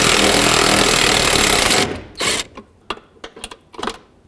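Power tool spinning a socket to remove a seat nut on a 2007 Chevy Silverado Classic: a loud steady mechanical whirring for nearly two seconds, then stops, followed by short scattered clicks and rattles of the socket and nut.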